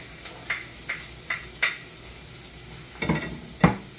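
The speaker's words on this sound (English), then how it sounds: "So I add in my onions. I'm gonna go in with my Scotch bonnet pepper, ginger and garlic." Onions, Scotch bonnet pepper, ginger and garlic frying in a pan, a quiet sizzle broken by regular spoon-against-pan taps, then a louder pair of scraping knocks near the end.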